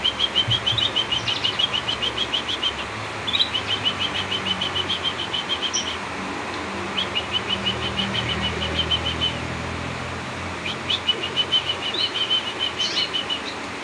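Canaries in a breeding cage giving quick repeated high chirps and twitters, moderately close over a steady low rumble and background noise, with occasional brief flutters.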